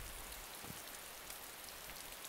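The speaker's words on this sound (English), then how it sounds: "I'm thinking about staying in here until it stops raining, eh?" Steady rain pattering on a surface in the video game DayZ Standalone, soft and even throughout, with no voices.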